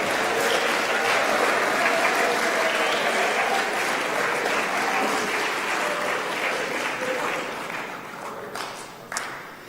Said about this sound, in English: So let's give Coach Ray Miller a round of applause.